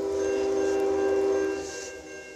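A Norfolk Southern eastbound freight train led by an older Dash 9 locomotive sounds a sustained horn blast, moderately distant, that fades after about a second and a half.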